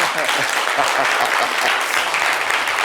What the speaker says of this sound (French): applaudissez pour ça, s'il vous plaît